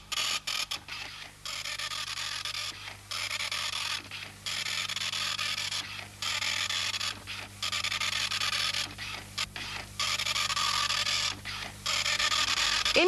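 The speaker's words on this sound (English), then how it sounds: "The dot matrix printer is quiet and can print three different type styles." A Sagem Telex 2000 dot matrix printer buzzes in repeated bursts, each line a harsh, high whir separated by brief pauses, close and steady with no voices.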